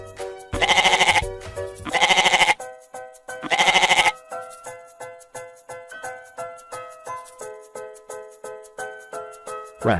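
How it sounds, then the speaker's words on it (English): A goat bleats three times, loud and close, in long wavering cries separated by short gaps, over bright children's music that continues alone after the calls. "Goat."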